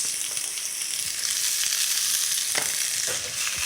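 Onions sizzling and frying steadily in oil, a continuous close crackle with a few soft stirring scrapes, no voices.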